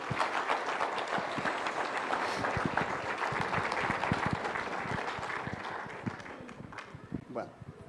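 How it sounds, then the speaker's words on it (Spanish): A congregation at an evangelistic gathering in Bolivia keeps applauding, the clapping thinning out and growing scattered, with voices and shuffling footsteps mixed in. "Con fuertes aplausos una vez más."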